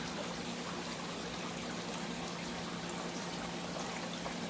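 Water from a dehumidifier drain line falls into a creek outdoors, a continuous even trickle and pouring wash that holds steady without pause.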